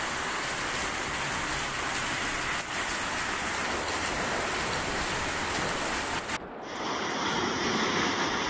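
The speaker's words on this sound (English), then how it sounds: "Hujannya lumayan deras" Heavy rain pours in a dense, steady hiss during a storm in Indonesia, unbroken and fairly loud, with a brief dip near the end before the downpour continues.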